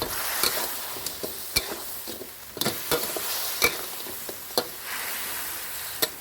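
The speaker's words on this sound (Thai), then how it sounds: "จากนั้นครับก็ใส่ปลาทับทิมทอดลงไปผัดรวมกัน" Fried tilapia stir-fried in a hot pan, with a steady sizzle under sharp, irregular clinks and scrapes of the utensil against the pan.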